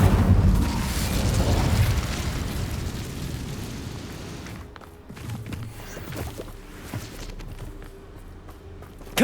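A fire spell cast in the Hogwarts Legacy video game bursts loudly with a heavy explosive whoosh, then a rumbling, crackling tail that fades into quieter scattered pops.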